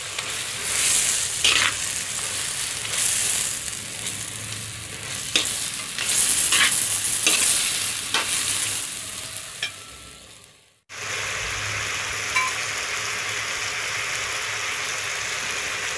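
Cashew nuts and curry leaves frying in oil for tomato egg rice, a continuous bright sizzle with occasional stirring scrapes, close and steady, briefly cut off near the end before the frying noise resumes.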